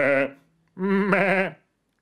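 A human voice imitates a sheep, giving two wavering, nasal bleats separated by a short pause, close and clear.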